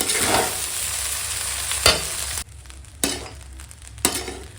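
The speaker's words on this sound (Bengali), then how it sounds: "এইভাবে হালকা হাতে সব মিশে আই ওপর নিচ করবো তো সব মিশে যাবে" A spoon turns vegetable rice with chicken in a hot pan, a steady sizzle broken by a few sharp scrapes and knocks of the utensil against the pan, close and alone.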